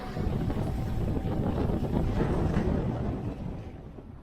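Strong westerly wind coming off the mountains roars and buffets the microphone in steady, heavy gusts at a boat anchorage in Baja, Mexico, a broad rushing noise that eases slightly toward the end.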